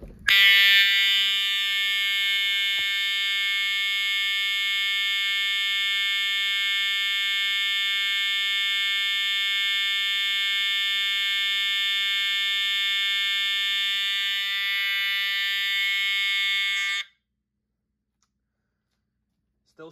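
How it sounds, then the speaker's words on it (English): An EST 752-5A-006 fire alarm horn with a dead strobe blares a continuous, loud, piercing buzz for about seventeen seconds, then cuts off abruptly into silence. "This has a dead strobe, but the horn still works great."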